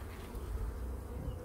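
Steady, dense buzzing of many honeybees up close at an open hive, a continuous low hum that stays even throughout with no voices.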